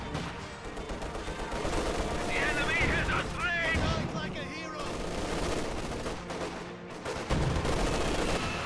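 Sustained LMG machine gun fire in a video game match, a steady dense rattle throughout with explosions mixed in and a commentator talking over it.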